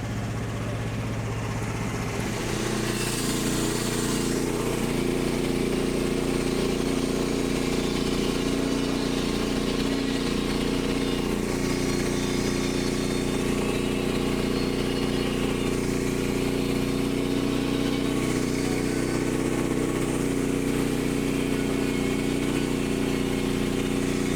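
A sawmill engine runs steadily while a log is cut, a loud, constant mid-pitched drone with a slight change in tone early on and no break throughout.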